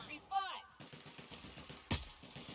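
Gunfire aimed at a Mantisaur in The Outer Worlds: a rapid string of mid-level shots runs through most of the clip, with one sharp louder burst near the end, following a brief creature screech at the start.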